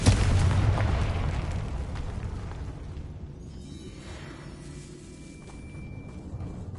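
The Confringo spell explodes in the Hogwarts Legacy video game inside a decayed catacomb: a loud, heavy boom at the start that rolls off into a long, fading rumble and debris.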